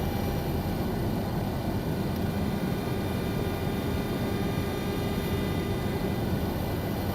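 Cockpit engine noise from an FSS 727-200F cargo jet in Microsoft Flight Simulator: a constant broadband roar and hiss with faint steady whine tones, unchanging throughout, with no voices.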